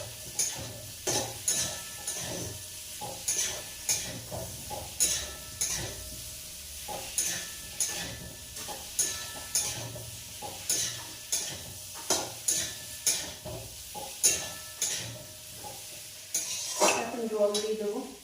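A heavily spiced mixed vegetable dish with cauliflower is sautéed in a pan, a spoon scraping and clinking against the metal in a steady rhythm of roughly one stroke per second over a soft background sizzle.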